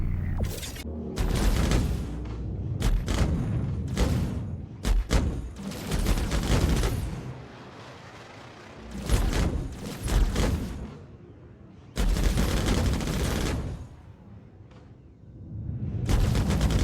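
Gunfire in the Star Citizen video game, with loud bursts of rapid shots and heavy booms coming in several separate volleys and short quiet gaps between them.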